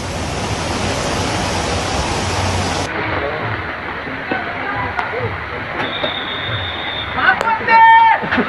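The flooded Kumaradhara river at Kukke Subramanya roars as a broad, steady rushing of water, with a few faint clicks and tones near the end.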